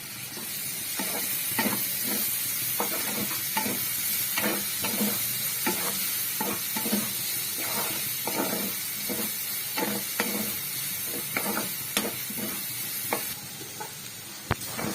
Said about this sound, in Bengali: হালকা করে ভেজে নেওয়ার পর আমি দিয়ে দেবো পেঁয়াজ কুচি।